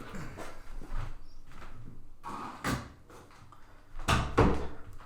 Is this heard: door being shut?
yes